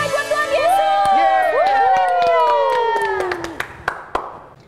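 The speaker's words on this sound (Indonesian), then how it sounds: "Sorak-sorai buat Tuhan Yesus." Children's online Sunday worship with energetic clapping and whooping cheers, overlaid by sliding synth or vocal tones, ending in a few sharp claps near the close.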